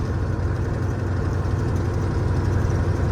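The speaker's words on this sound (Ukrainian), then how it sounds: "Ну тут мотор моцний, він що тягу має." An MTZ-82 tractor's engine runs at a steady, even throb, loud and close, with a low rumbling drone and no voices over it.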